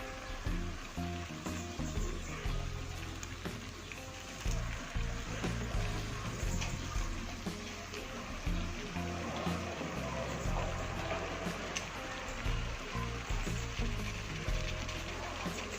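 Spices fry in a pan for an Aceh-style white chicken dish, a steady crackling sizzle with bursts of spattering and occasional scraping or stirring knocks, loud and close throughout.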